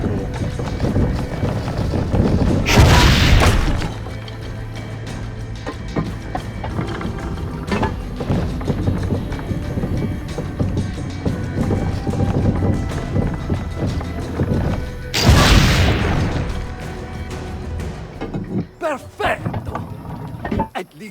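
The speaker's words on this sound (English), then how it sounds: "Shooting some cannons" Two loud, booming cannon blasts in the video game Assassin's Creed Brotherhood, about twelve seconds apart, each a broad burst of noise, over a continuous low rumble and wind-like background.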